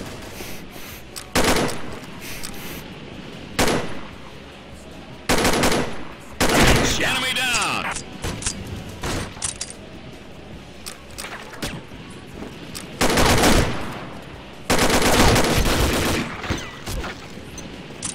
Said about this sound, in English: I'm gonna test this gun out.